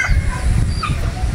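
Chickens, apparently gamefowl, at a game farm in Batangas give brief clucks and calls over a steady low rumble of background noise, close and moderately loud.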